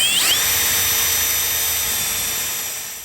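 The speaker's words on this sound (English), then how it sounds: "You drill pilot holes in each of these locations, then use a jigsaw or a multi-tool to cut across." A power drill boring a pilot hole into the lid of a 2024 Harley-Davidson Street Glide, a loud, close, high whine that spins up briefly and then holds steady before easing off.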